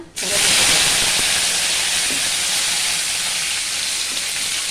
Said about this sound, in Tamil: உளுந்து பச்சை மிளகாய் நல்லா வதந்துட்டோம்